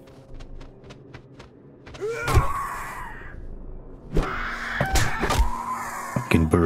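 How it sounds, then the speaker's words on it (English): Crows cawing in the snowy city of 7 Days to Die, loud harsh calls repeating in bursts alongside a few dull thumps, near and without speech. "Fucking birds"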